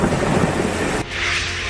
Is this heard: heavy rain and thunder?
yes